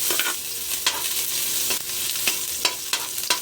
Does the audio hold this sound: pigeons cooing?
no